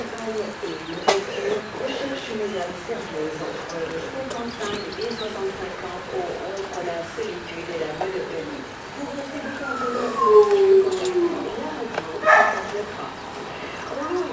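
Dogs at a boarding kennel barking and yelping in a steady chorus with wavering howl-like cries, moderately loud and overlapping, while a person speaks nearby.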